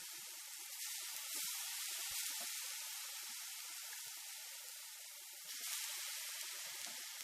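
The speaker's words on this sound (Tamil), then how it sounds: "அழுத்திட்டு இந்த எண்ணெய் நல்லா சூடானதுக்கு முன்னாடி எண்ணெயில் சேர்த்துக்கணும்" Pressed dough fries in oil heating in a pan for a Tamil New Year lunch, making a steady, fairly loud hiss and sizzle with scattered crackles throughout and no talking.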